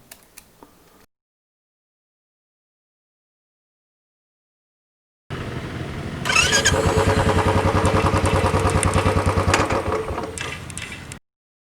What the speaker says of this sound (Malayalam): സൈഡ് സ്റ്റാൻഡിലാണ് ബൈക്ക് ഉള്ളതെങ്കിൽ സ്റ്റാർട്ട് ചെയ്തതിന് ശേഷം ഗിയർ ഇടുമ്പോൾ ബൈക്ക് ഓഫ് ആവുന്നു.